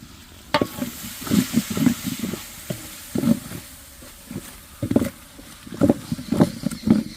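A mixture of chili sauce and tomato ketchup for chicken biryani being stirred in a pot, a series of soft wet scraping strokes in an irregular rhythm, close and moderately loud with no talking.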